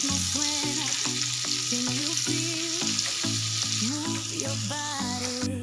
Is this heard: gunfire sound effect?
no